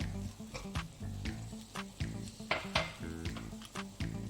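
Butter goes into a simmering palak paneer gravy in a pan, giving a soft, quiet sizzle broken by irregular clinks and scrapes of a utensil against the pot, close by and without talk.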